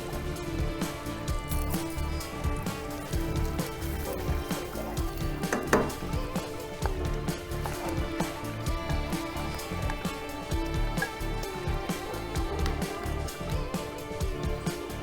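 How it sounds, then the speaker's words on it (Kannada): A ground onion, tomato and cashew paste is stirred into gravy in a pan for paneer mutter, with repeated spoon clicks and scrapes against the metal over a low, steady sizzle. "ರುಬ್ಬಿರೋದನ್ನು ಇದ್ರ ಜೊತೆ ಮಿಕ್ಸ್ ಮಾಡ್ಬೋಣ"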